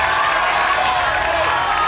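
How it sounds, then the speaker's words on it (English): A packed crowd roars and cheers steadily for a climber at a bouldering final, the Gravity Bowl 8 boulder finals, as a dense, loud wall of voices with no pauses. "The crowd is going crazy."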